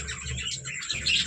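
Birds chirp and tweet steadily close by around clay nesting pots, a busy high twittering that carries on throughout without any talk.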